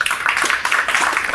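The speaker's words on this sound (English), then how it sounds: "Please give a warm round of applause for Julius Hayes." Audience applause welcoming guest speaker Julius Hayes onto the stage at a new construction house flipping talk, a steady dense wash of clapping from a moderately close crowd.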